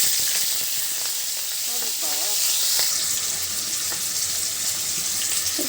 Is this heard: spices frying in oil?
yes